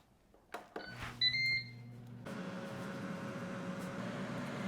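A Ninja Crispi Pro air fryer set to air fry chicken wings gives a few short control beeps, then its fan kicks on into a steady whirring hum with a faint tone that carries on to the end.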